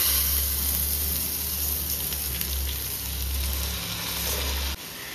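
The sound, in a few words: rice frying in pan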